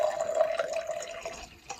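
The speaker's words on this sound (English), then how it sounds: "getting a jar like this and filling it more like halfway with water" Water runs into a glass jar, filling it about halfway, as the first step of fermenting tomato seeds. The pour is close and gurgling, and its pitch shifts as the liquid rises, with a few splashes near the end.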